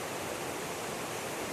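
River rapids of tumbling water roar as a steady, dense rush, close and continuous throughout with no break or voices.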